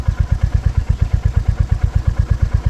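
Motorcycle engine on a rough, hilly forest road in a remote tribal village area, chugging in a steady, fast, even pulse of low thumps, loud and close throughout with a rattling clatter over the top.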